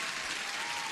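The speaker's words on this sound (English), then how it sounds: "Everybody deserves an applause." A burst of applause from a small group during a live day-trading stream, steady dense clapping at moderate volume, heard on its own for about a second.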